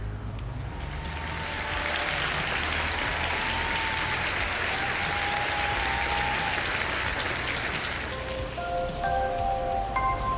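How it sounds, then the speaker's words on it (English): A dense wash of clapping applause sweeps in and holds steadily for several seconds, like a crowd round of applause played over a Farming Simulator 22 livestream, fading as a few soft tones chime near the end. "big old round of applause for Mike"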